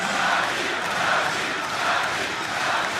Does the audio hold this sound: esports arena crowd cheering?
yes